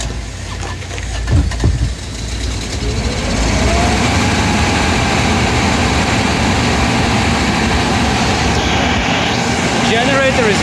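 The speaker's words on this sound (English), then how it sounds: "The generator is very, very quiet." A generator on a 2005 Dodge Sprinter van runs with a steady, loud mechanical drone that settles into a constant hum after a rough start, with the van's engine also running and faint speech underneath.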